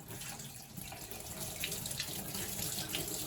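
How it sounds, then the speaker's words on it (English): Water runs and splashes steadily into a sink as it is drained off, a continuous rushing pour with some gurgling, fairly quiet and close. "Sometimes you might have to drain off the water."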